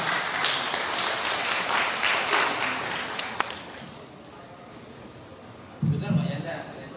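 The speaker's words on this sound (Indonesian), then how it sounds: "Kita beri aplaus." An audience breaks into loud, dense applause that carries for several seconds before tapering off, then a voice speaks over scattered renewed clapping near the end.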